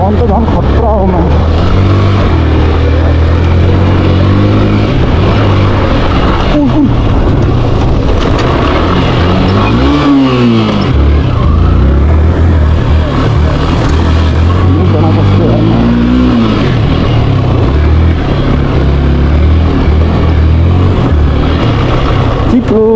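A Yamaha FZ V2 motorcycle engine rides off-road on a village trail, its steady, loud, close drone rising and falling through a couple of clear revs over continuous wind-like rumble.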